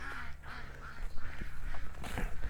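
Ducks quack repeatedly in short nasal bursts, fairly close, with a few overlapping calls and some outdoor background noise.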